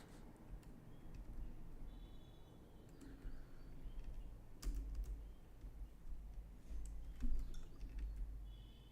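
Soft, fairly faint keystrokes on a computer keyboard while someone works on HTML, scattered clicks with a few sharper taps over a low room hum, no talking.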